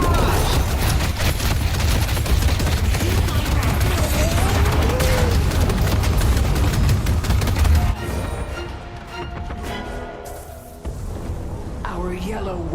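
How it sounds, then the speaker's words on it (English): Dense, continuous barrage of gunfire and explosions from a Spectre attack on a walker in the game Deadlock, loud for about eight seconds before dropping to quieter combat sounds with a voice talking over it. "Our yellow walker is under Spectre barrage!"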